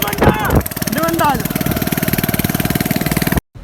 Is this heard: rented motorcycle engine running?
yes